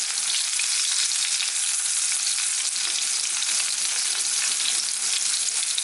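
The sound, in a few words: steak sizzling in butter after flipping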